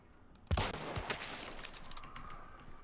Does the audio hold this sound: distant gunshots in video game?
yes